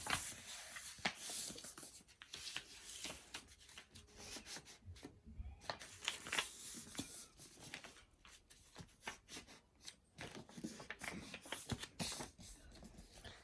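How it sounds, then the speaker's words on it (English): Paper being creased and folded into a paper crane, soft close rubbing, scraping and crinkling strokes in irregular bursts, quiet with no talking. "And then unfold it and fold it into a rectangle downward, like this."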